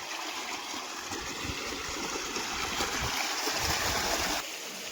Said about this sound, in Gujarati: આજ જો કે ઘઉંમાં આપણે બીજું પાણી ચાલુ કરવાનું છે, એટલે પાણી કર્યું વહેતું